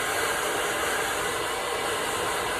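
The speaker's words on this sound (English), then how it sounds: "Moving the brush, moving the blow dryer." A blow dryer whirs continuously at close range, a steady airy hum with no pauses and no talking.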